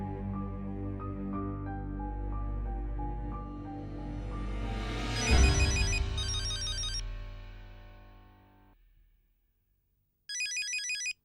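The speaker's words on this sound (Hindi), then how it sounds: "रिंग हो रहा है।" A phone ringtone plays a rising electronic melody, swells, then fades out; after a short silence, a brief burst of high ringing tones starts again.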